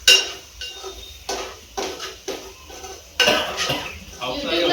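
A metal spoon scraping and knocking around a pot while chicken is mixed with turmeric, several distinct rhythmic clanks and scrapes, close and fairly loud, with a little background voice.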